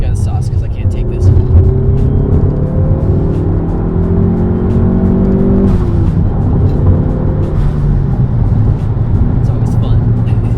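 A Dodge Neon SRT4 commuter car accelerates hard, its engine revving loud and close with rising tones across several gear pulls, under steady road and wind noise.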